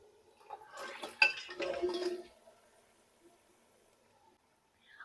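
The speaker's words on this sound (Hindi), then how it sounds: "अब मैंने ग्रेवी में सारा गोश्त शामिल कर दिया है" Boiled mutton pieces tipped into an oily masala gravy in a pan, with a burst of metal spoon and pot clatter and soft sliding thuds in the first couple of seconds, then near silence.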